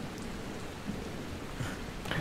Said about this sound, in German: Oh, Regenwetter wieder mal.